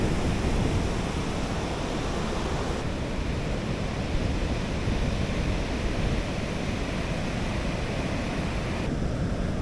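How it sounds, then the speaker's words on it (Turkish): Rough, heavy sea surf crashes and roars onto a beach in a dense, continuous wash of noise, loud and near, with wind buffeting throughout and no voices. "Hayatımda gördüğüm en dalgalı deniz olabilir"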